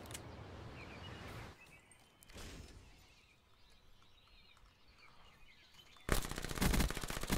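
Gunfire in a first-person shooter video game: a sustained rapid automatic burst that is loud and close near the end, after quieter, muffled shooting earlier.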